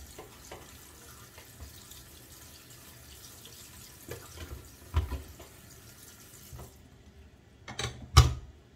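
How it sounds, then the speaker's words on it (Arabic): Cold tap water runs into a kitchen sink over freshly boiled pasta, a steady soft rush with faint clinks of a strainer or pot, rising briefly to a louder splash near the end. "غنشللهم بالماء بارد باش نحبس ليهم لا كويسون"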